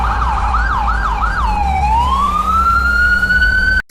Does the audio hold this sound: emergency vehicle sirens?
yes